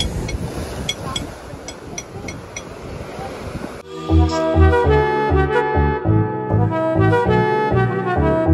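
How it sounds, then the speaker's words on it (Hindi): Wind and sea waves at a seaside spot, a steady broadband rush that gives way midway to loud music playing over the surf noise. "इतनी अच्छी हवा चल रही है और this is C side, I love the vibes."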